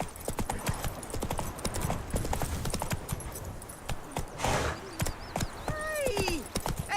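Roach, the horse in the video game The Witcher 3, clip-clops along in a steady run of close hoofbeats, with a brief whinny and some game voices and effects layered over the rhythm.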